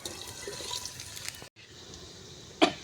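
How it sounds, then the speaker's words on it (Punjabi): Mustard greens for saag are rinsed in water at home, with steady splashing and trickling, a brief pause, and then a sharper splash near the end. "ਸਾਗ ਨੂੰ ਧੋ ਕੇ ਚੰਗੀ ਤਰ੍ਹਾਂ ਪਾਣੀ 'ਚ"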